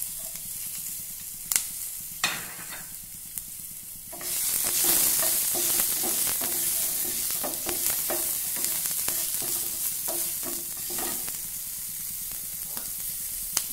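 Onions dropped into hot oil for an egg and magur fish curry: quiet clinks at first, then a sudden loud sizzle that keeps crackling under intermittent stirring taps.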